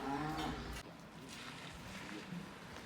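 Cows moo loudly and close by at the start as they cross a mountain-village flea market, followed by lower murmurs and crowd noise in an open outdoor space.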